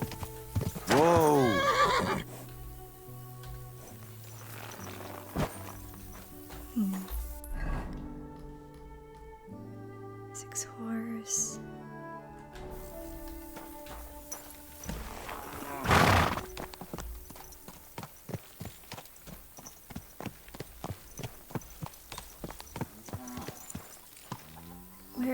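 A horse in the medieval game Kingdom Come: Deliverance II neighs loudly up close, followed by a second whinny and then a steady rhythmic clip-clop of hooves, with a voice talking over parts of it.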